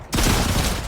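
An upgraded gun in the Fortnite video game fires a fast, loud burst of shots that starts abruptly and runs for the rest of the moment.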